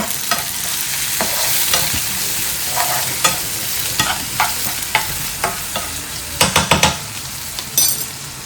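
A tomato mixture sizzles steadily in a pan on a home stove while a utensil stirs and scrapes, the clinks and taps growing more frequent toward the end, with no speech.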